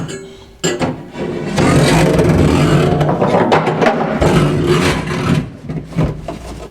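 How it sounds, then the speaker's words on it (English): A power drill bores a 1¼ inch hole through the steel floor of a Baja Bug Volkswagen Beetle. The drill starts with a brief burst, then grinds loudly and steadily for about five seconds before winding down. "Now I'll drill an 1¼ inch hole."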